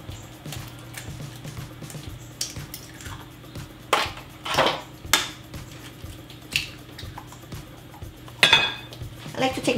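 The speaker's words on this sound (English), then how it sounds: "take my little whisk and just go ahead and whisk it just a little bit" A small whisk beats eggs in a measuring cup, giving irregular clinks and scrapes against the cup wall, fairly close and moderately loud.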